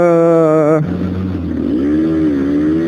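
A loud Gilera RCR motorcycle engine holds a high steady whine, then drops to a lower growl that rises and falls as it revs and accelerates, close by.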